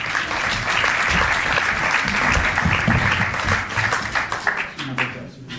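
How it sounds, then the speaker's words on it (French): Sustained, dense applause from an event audience at a film premiere, steady and loud throughout with a slight dip near the end. "On applaudit très fort"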